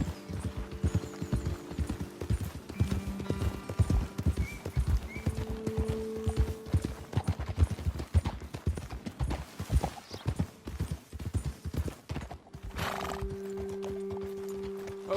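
Horse hooves clip-clop in a steady, uneven rhythm in Red Dead Redemption 2, joined by a neigh and whinny partway through, fairly close and alone without talk.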